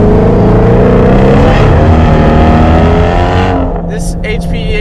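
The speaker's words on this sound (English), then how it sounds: "You hear the motor revving so high" A powerful Shelby GT350 Mustang engine with an HPE850 upgrade package roars at high revs, loud and close, its pitch climbing steadily before easing off, with a brief voice at the end.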